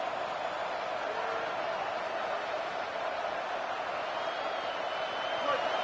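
At a Texas A&M versus Michigan college football game, the stadium crowd roars on a fourth down, a broad, distant, sustained wall of cheering under a commentator's voice.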